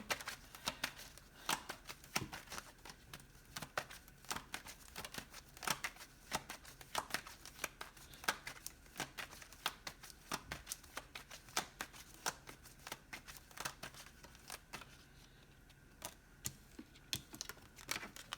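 Tarot cards being shuffled and drawn during a reading, heard as a steady run of soft, close papery flicks and riffles with frequent sharp card snaps, fairly quiet and without talk.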